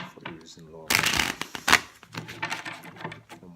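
Tarot cards being shuffled in quick, crisp riffling bursts, loud and close, with a few softer handling sounds around them.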